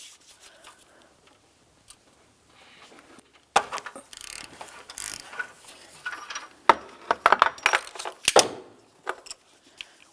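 Socket wrench turned counterclockwise to loosen the upstream O2 sensor on a 2009-2019 Ford Flex, quiet then a series of metallic clicks, scrapes and ratcheting taps, irregular and close, without talk.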